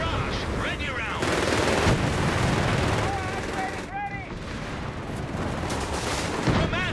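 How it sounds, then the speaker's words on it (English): Sustained rumbling artillery barrage in Company of Heroes 3, continuous dense booms and gunfire with a whistling shell sound partway through, fairly loud throughout, under faint battlefield voices. "Initiate creeping barrage"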